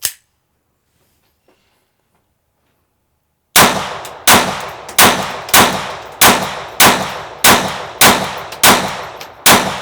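A GSG 1911 .22 pistol firing Winchester copper-plated ammunition: after a silent stretch, about ten sharp, ringing shots in a steady rhythm, close and loud.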